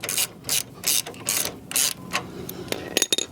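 Ratchet clicking as a lock nut is tightened on the brake arm of a 2024 Harley Davidson Road Glide, several rhythmic bursts of close metallic ratcheting, then faster short clicks.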